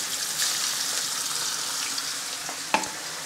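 Ribbon fish pieces frying in hot coconut oil over a high flame, a bright continuous sizzling hiss with a sharp splatter pop near the end.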